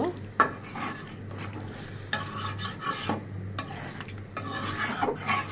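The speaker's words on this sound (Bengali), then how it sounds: "আলু দিলাম আলু কষিয়ে নেব" Potatoes sautéing and being stirred in a pan for an alu-shim fish curry, with a steady hiss of frying under repeated scrapes and clinks of a spatula against the metal pan.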